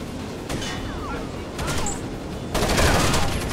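Bursts of gunfire in the tactical shooter game Rainbow Six Vegas 2, loud cracks and rattling volleys in a few separate clusters, the heaviest coming late, mixed with game ambience.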